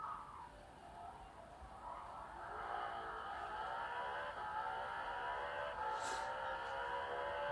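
Nissan R32 race car in Gran Turismo 7, its engine holding a steady high-revving drone with harmonic whine that swells slightly louder and continuous, with no voices.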